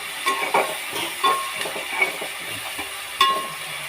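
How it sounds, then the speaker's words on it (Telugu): Onions fry in a pan with a close, bright sizzle, broken by several stirring scrapes and clatters at an uneven rhythm. "తీసుకున్న తర్వాత ఇది ఆల్రెడీ ఫ్రై అవుతుంది కదండి, ఆనియన్స్ ఫ్రై అవుతున్నాయి."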